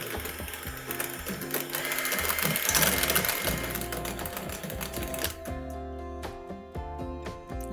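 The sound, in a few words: electric mixer whipping cream into buttercream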